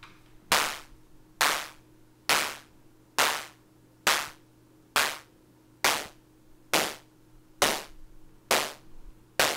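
Synthesized claps from a Moog DFAM analog drum synthesizer, eleven sharp, bright hits at a steady, even pace, each with a short noisy decay over a faint low hum.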